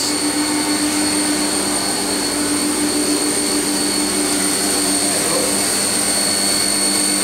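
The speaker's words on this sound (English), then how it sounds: "He's milling some of the BBMs right now." A milling machine cutting knife parts in a knife-making shop in Staten Island, New York City, a loud continuous mechanical whine with steady high tonal hum and no pauses.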